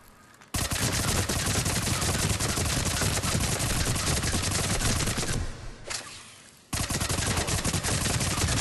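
Tempest submachine gun fire in Mass Effect 3, loud sustained automatic bursts in rapid succession with a short lull partway through before firing resumes.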